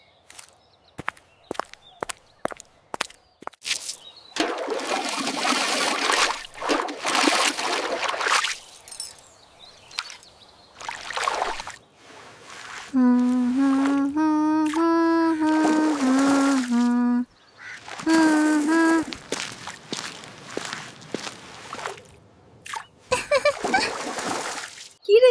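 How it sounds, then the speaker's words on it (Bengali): Cartoon sounds of clothes being washed by hand in a pond: repeated splashes and wet slaps in bursts with quiet gaps, plus soft tapping, a short musical jingle and voices speaking briefly. "এই তো কিছু কাপড় ধুচ্ছি"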